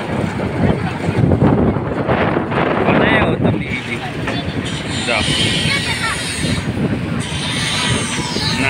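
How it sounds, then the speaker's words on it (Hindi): Wind blowing hard outdoors on a hot sunny day, a loud, gusty rumble buffeting the microphone throughout, with a person talking over it. "अभी यहाँ पर हवा चल रही है"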